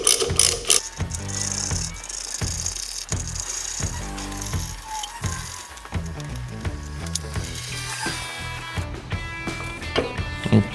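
A hand ratchet loosening the handlebar clamp bolts on a 2023.5-or-later Harley-Davidson Road Glide motorcycle, with close, rapid bursts of clicking pawl strokes repeating in quick rhythmic runs, along with light metallic knocks.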